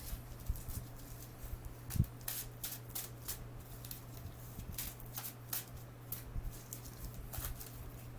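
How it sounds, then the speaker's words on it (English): Someone shuffles a deck of playing cards at a tabletop card game, giving a string of soft riffling patters and taps, close and fairly quiet over a low steady hum. "Let me shuffle."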